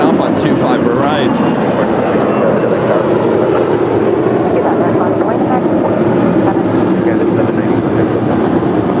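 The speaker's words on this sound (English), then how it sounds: "A321 taking off on 25 right" An Airbus A321 in U.S. Airways Heritage livery takes off from runway 25 right at LAX, a steady, loud broadband jet roar filling the whole stretch, with voices talking over it.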